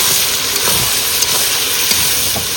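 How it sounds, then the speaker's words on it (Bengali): Potatoes and onions fry in a pan with a steady, loud sizzling hiss and occasional soft stirring bumps. "আলুটা দিয়ে একটু কষিয়ে নিতে হবে"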